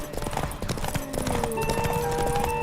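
Horse hooves clip-clopping in The Witcher 3 game, a brisk run of hoofbeats over game music and ambience, with brief voice sounds mixed in.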